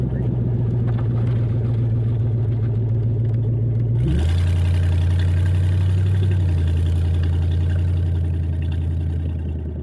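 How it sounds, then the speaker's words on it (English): A car engine idling up close, a steady low hum that drops to a deeper pitch partway through and then holds smooth and even, with no talking. "This car runs so good."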